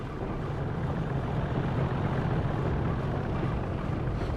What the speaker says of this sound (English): if we're lucky, we might hear this tractor